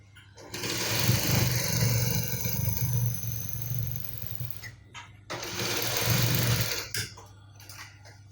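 Sewing machine running two long bursts of stitching along the shoulder seam of an agbada, a steady loud whirring motor drone with a short pause between runs and no talk.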